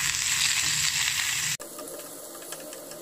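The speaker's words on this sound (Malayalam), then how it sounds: "ഇതിലേക്ക് കുറച്ച് കറിവേപ്പില ചേർത്ത് കൊടുക്കാം. നന്നായി ഒന്ന് മൂപ്പിച്ചെടുക്കാം." Curry leaves hiss and crackle as they fry in hot oil for a bitter gourd and dried prawn curry, a steady loud sizzle that cuts off abruptly, leaving quieter kitchen clatter.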